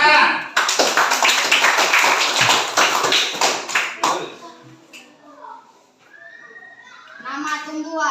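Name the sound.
clapping hands in a class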